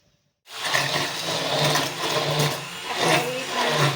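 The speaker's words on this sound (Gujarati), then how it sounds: "બ્લેન્ડર ફેરવી લઈએ એટલે આપણું બધું મિક્સ થઈ જાય." An electric blender whirs steadily as it mixes yogurt kadhi batter with sugar, water and ginger-chilli paste for farali kadhi, starting abruptly after a brief silence and running loud and continuous with slight surges in pitch.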